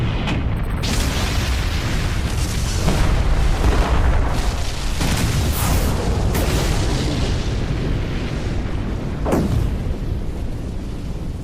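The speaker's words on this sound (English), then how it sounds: "The Ten-Tail Beast Bomb in particular is a strong contender for the biggest kaboom attack in the show." The Ten-Tail Beast Bomb from the anime Naruto Shippuden erupts as a huge, sustained explosion: a dense, loud roaring blast with several sharp booming swells on top, continuing without a break.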